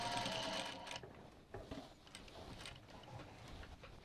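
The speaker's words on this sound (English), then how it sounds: "So I'm just going to sew this on with a box and a crisscross." A sewing machine stitches a box-and-crisscross pattern onto a rolltop rucksack, its steady mechanical whir loudest for the first second, then settling into quieter, uneven ticking and clicking.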